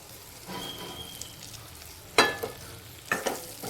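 Stuffed okra goes into oil tempered with chillies. A soft sizzle starts, then a few sharp, close scraping bursts come from stirring in the pan.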